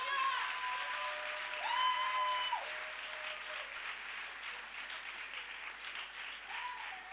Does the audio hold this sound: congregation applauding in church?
yes